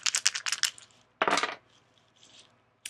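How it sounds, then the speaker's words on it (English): Dice are thrown during a tarot-style reading, giving a quick rattle of sharp clicks and a second clattering burst, then fading small taps, close and alone. "I'm going to throw the dice of resonance"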